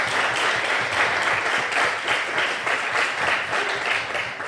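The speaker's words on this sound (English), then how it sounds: "Big round of applause" An audience at a live podcast event breaks into loud, sustained applause, with dense overlapping clapping filling the room throughout.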